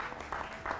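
A studio audience on a televised Hindi news debate show breaks into brief bursts of applause, two swells of clapping within under a second, moderately faint.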